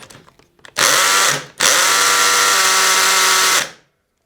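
A Hychika 18V cordless impact wrench runs in drill mode at 55 Nm: a loud, close whir for under a second, a brief stop, then a longer steady spin of about two seconds before winding down.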